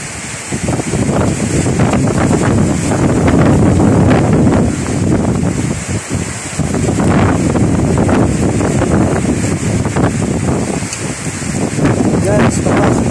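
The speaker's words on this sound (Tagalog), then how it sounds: "Malakas ang hangin dito." Strong wind roars and buffets the microphone continuously during heavy rain and cloudy weather in Tarlac City, Philippines, with a low rumbling gust that briefly dips before surging again.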